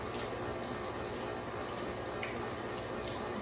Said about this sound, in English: Rinse this off my hand again.